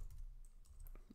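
Typing on a computer keyboard, a few soft, quick keystrokes heard faintly and close over a low background hum.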